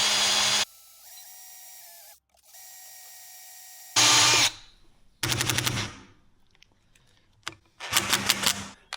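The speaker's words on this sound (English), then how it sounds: "We'll drill it a little bit and then see if this tap remover will work." A drill bores into a metal baler part during silage-season repairs before a tap remover is fitted, running in loud bursts of whirring and grinding that start and stop, separated by silent gaps.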